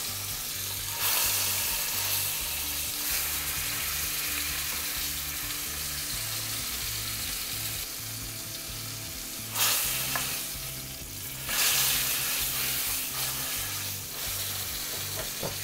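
A chunk of supermarket beef steak sears in a hot frying pan as it is turned, giving a steady loud sizzle with brief louder bursts of spitting fat, with no talking.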